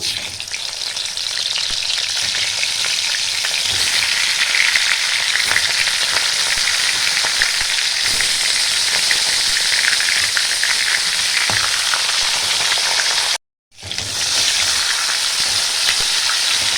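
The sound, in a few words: frying fish heads in oil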